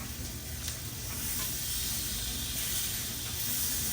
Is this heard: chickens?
no